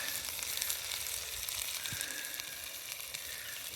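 Burgers sizzle and fry on a small firebox stove outdoors, a steady close crackling hiss with no talking.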